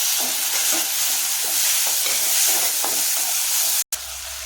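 Loud, steady sizzling of tomatoes and onions sautéing in oil, with soft stirring scrapes throughout and a brief cut near the end.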